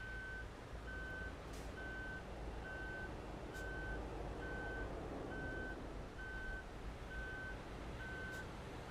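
A reversing truck in Euro Truck Simulator 2 sounds its backup alarm, a steady run of evenly spaced high beeps repeating about twice a second over a low diesel engine rumble, with no talk.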